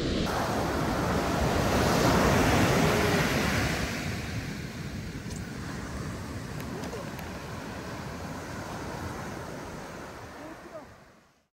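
Ocean surf breaks on a beach during surf fishing for halibut and zebra perch, a loud continuous wash that swells over the first few seconds, then settles into a steady rushing roar with wind buffeting the microphone.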